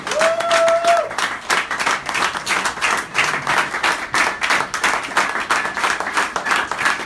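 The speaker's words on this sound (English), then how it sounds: "Let's clap it for them, let's clap it for them." A church congregation claps and applauds continuously, loud and dense throughout, with a brief tonal whistle or squeal at the start.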